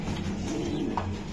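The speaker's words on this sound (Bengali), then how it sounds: "এই যে রানা ভাইয়ের কবুতর এগুলো" Racing pigeons in a loft, soft low cooing over a quiet steady background hum, with one brief brighter note near the end.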